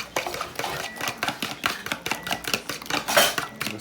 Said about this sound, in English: So what I'm gonna do, whisk these 3 eggs just like this,